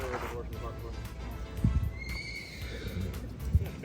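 A horse whinnies partway through a horseback ride out of Tayrona, a rising high call heard over hoof thuds and outdoor noise, with people talking nearby.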